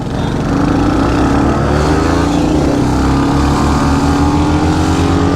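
A Hunter 350 and an MT 15 motorcycle drag race side by side, engines roaring loud and close with rising pitch through the gears over a steady low exhaust rumble.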